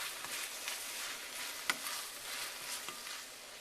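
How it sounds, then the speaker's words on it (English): Cooked onions are stirred together with flour and sugar in a pan, a soft sizzle running under quiet scraping, with one sharp tap of the spoon partway through. "I'm going to stir this together and let it cook for about a minute."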